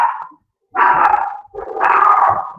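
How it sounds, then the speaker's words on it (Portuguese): A dog barks in two long, loud bursts close by, with a short opening bark before them, all heard without speech. "pelo que vocês estão escutando do cachorro"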